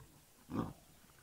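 A lion in the wild gives a single short, low growl, faint and distant, against a quiet background.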